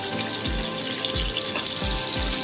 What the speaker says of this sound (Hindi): गोभी को हम ऑयल में फ्राई करेंगे और इसका कलर चेंज कर लेंगे।